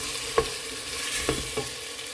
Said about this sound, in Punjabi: ਥੋੜ੍ਹਾ ਜਿਹਾ ਅਸੀਂ ਇਸ ਮਸਾਲੇ ਨੂੰ ਭੁੰਨਾਂਗੇ